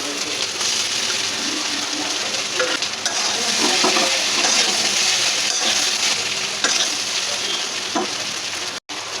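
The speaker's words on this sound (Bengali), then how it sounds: "এখন আমরা সব ভাজা এটার সাথে মিশিয়ে ফেলবো।" Onion, green chillies and boiled potato stir-fried together in a pan: a bright, dense sizzle with repeated scraping and tossing strokes throughout, loud and close, ending in a brief cut-off.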